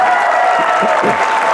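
A comedy show audience claps at once in a dense, loud burst that fills the room, with some murmuring and cheering mixed in.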